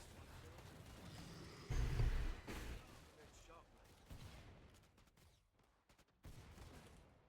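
Video game gunfire with the Sharpshooter perk: a loud burst of shots near the start, then scattered sharper reports and a final shot, with people talking over parts of it.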